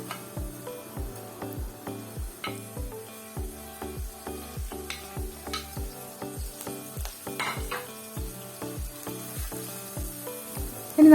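Chopped onion, green chilli, curry leaves and crushed ginger-garlic frying in hot coconut oil for an egg curry, with a steady sizzle and a regular rhythm of stirring scrapes throughout, close and moderately loud, no talking.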